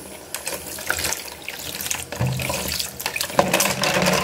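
Warm water running from a tap into a sink to soak nail brushes, a steady splashing flow with some clatter at close range, continuous throughout.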